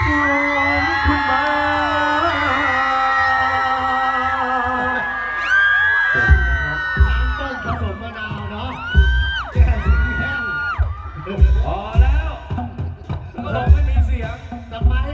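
A crowd screams and cheers loudly at a Thai likay folk theatre performance in Ayutthaya, a high sustained shriek at first, then broken into whoops, yells and bangs that keep surging.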